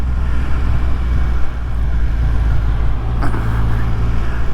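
Riding aboard a 2024 Triumph Rocket 3 motorcycle, whose huge engine gives off a steady, deep, car-like drone over strong wind rush for the whole stretch, with no voices.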